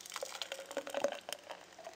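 A homemade fruit smoothie poured from a blender into a glass, soft liquid trickling and faint glugging heard close up but quietly, with no talking.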